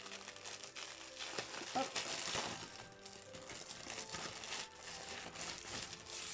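Plastic packaging of a DIY cross-stitch kit crinkles and crumples as it is opened, close and continuous with rustling bursts, while a voice speaks briefly over it.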